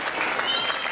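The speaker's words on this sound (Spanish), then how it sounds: "Demos un aplauso al Señor." Wedding congregation applauding in church, a brief dense burst of many hands clapping at moderate volume with a steady, crowded texture.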